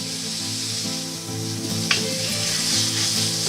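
Chopped onions sizzle steadily in a hot pan with celery and salt, a continuous close frying hiss with a brief stir scrape midway and no talking.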